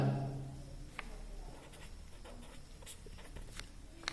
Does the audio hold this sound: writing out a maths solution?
yes